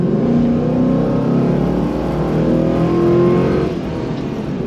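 An LS-swapped Jeep Wagoneer engine runs loud and close, its low rumble rising and falling through a few revs before easing off, with no voices over it.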